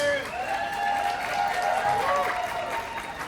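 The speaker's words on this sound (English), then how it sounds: "A big applause, please." A convention crowd in Las Vegas applauding steadily, a dense wash of clapping heard from within the room with a few voices mixed in, holding level throughout.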